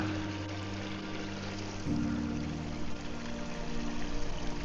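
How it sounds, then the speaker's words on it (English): A creek in the wild flows in a steady broadband wash, the water close by and fairly loud, with no voices over it. "There's a creek right here."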